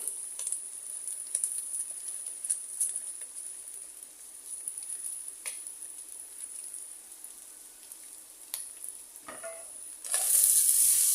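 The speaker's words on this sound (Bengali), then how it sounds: "ক্যাপসিকাম দিয়ে এক মিনিটের মতো ভেজে নিচ্ছি এখন দিয়ে দিব হাফ কেজি পোলার চাল" Capsicum and polao rice frying together in a pan for egg polao, a soft steady sizzle with light crackle and occasional stirring scrapes, a louder burst of frying near the end.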